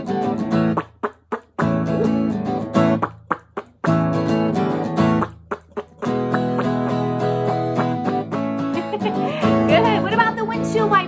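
Several voices imitate a car muffler together, making a repeated sputtering, buzzing vocal sound in short rhythmic bursts before settling into a longer sustained drone.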